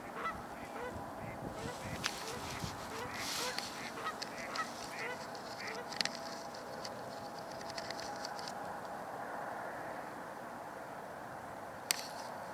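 A Canada goose honks repeatedly at a distance in an open wetland with northern pintails, the calls sitting over steady outdoor ambience with a few sharper clicks.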